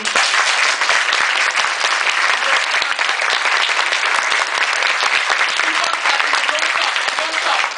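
A large audience at SRCC claps continuously, a loud, dense and sustained roar of hands that keeps going without pause.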